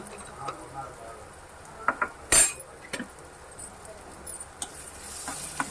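Ginger garlic paste being stirred in a pan for meal maker curry: soft sizzling with scattered spoon clinks and scrapes, one sharper clatter midway, fairly quiet throughout.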